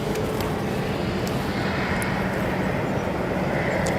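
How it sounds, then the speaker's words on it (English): An Air Wisconsin airliner arrives at Chicago O'Hare, a broad, steady engine roar holding at a moderate distance for the whole stretch, with no one speaking. "Air Wisconsin arrival"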